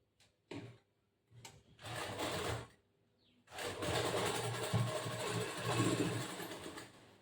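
A sewing machine stitching the sleeve seam of a boat-neck blouse, running in short bursts of steady rapid whirring chatter, a few brief stops, then a longer continuous run, close and fairly quiet.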